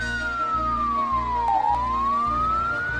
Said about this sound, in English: it's an ambulance ready to take the climber to hospital